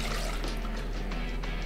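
White vinegar being poured for a burger pickle brine, a soft steady liquid trickle and splash running continuously and fairly quietly for the whole short stretch, with no talk.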